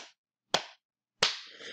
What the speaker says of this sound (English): what I'll do is I clap my hands like this.